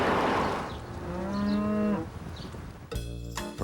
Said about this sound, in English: Yes, sweetie, cow.